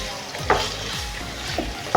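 Cubed boneless chicken frying on medium heat, with a steady close sizzle and a few light stirring scrapes.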